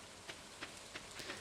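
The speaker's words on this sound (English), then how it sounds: "So it's nice to get a rainy day." A steady wash of soft rain falls in the Stardew Valley game, with a few faint, evenly spaced taps rising over the constant patter.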